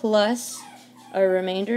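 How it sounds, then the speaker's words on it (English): A dog whimpers in short, high, whining bursts at the start and again near the end, closely miked, with a quiet pause between them and talk heard alongside. "Yeah, that's my dog."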